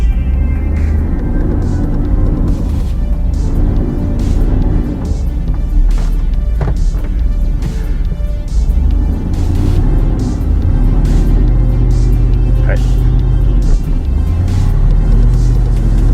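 A car engine revs while in gear with the brake held on, a loud, deep rumble that swells and falls in several pulls over a steady low idle, with rattling clicks and no talk.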